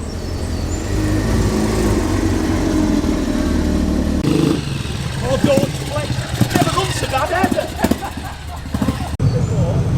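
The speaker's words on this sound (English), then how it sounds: "Driving in gracefully is this lovely old Triumph Roadster KRO 711." A classic Triumph Roadster rolls in at a classic car show, its engine rumbling nearby under an outdoor crowd, while people talk over it.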